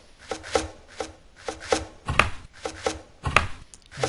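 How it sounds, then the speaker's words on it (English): Villagers chop wood in the video game Towns, a steady series of crisp, fairly quiet chopping strikes falling roughly every half second, alone with no talk. "and chopping more wood"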